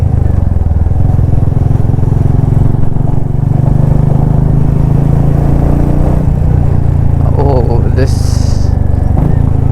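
A Royal Enfield Classic 350 motorcycle with a non-stock aftermarket exhaust runs with a steady, loud low thump throughout, briefly rising near the end, while people talk over it.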